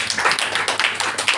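Congregation applause for God during a Sunday church worship service, a dense, steady clapping lasting about a second and a half with no talk over it.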